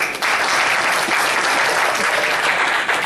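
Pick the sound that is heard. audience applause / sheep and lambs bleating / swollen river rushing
audience applause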